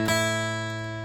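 Acoustic guitar alternating open 5th and 1st strings, a single clear pluck ringing out and decaying smoothly, close and unaccompanied.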